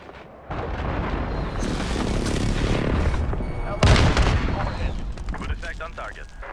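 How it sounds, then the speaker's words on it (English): A cruise missile strike hits in the Modern Warfare video game: loud, continuous rumbling explosions and gunfire build steadily, then a heavy, sharp boom lands partway through before the din trails off. "Allied cruise missile launched."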